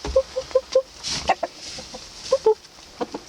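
A rooster gives a series of soft, close clucks in short bursts, with a few quick repeated notes and quiet pauses between them.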